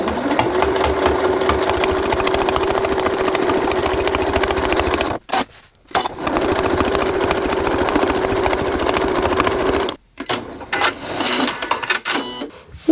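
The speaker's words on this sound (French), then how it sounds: "Voilà, j'ai fini de piquer donc ma petite languette avec le tire-zip." Domestic sewing machine stitching a fabric tab with a zip pull onto a travel pouch, a fast steady mechanical whirr and rattle running in long bursts, with brief pauses between runs and short stop-start stitches at the end.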